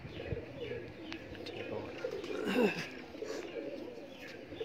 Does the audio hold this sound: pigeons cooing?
yes